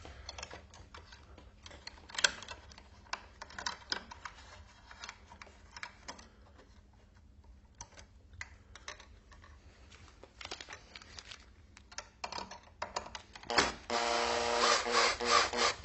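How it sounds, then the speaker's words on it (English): A screwdriver tightens a cable clamp down onto an electrical wire, giving close, quiet scraping and clicking turns over a low hum, and it ends in a brief louder rustle. "What I'm doing there is just tightening the clamp down onto the wire."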